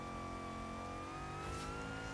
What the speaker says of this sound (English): I just love how you can hear the revs pick up.